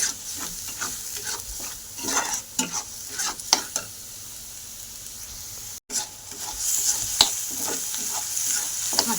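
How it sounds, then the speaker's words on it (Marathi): Ground spice masala sizzles steadily in oil left over from frying fish, with repeated stirring and scraping strokes in a close, continuous kitchen sound for a homemade fish curry. "मसाला चांगला तळून झाला."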